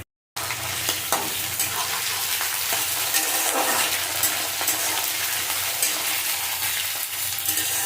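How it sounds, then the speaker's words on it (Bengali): Loud, steady sizzling and crackling of hilsa fish frying in hot oil until browned, close up and continuous, with no talking. "মাছটা ভাজা হতে থাক মাছটা ব্রাউন কালার হয়ে গেছে"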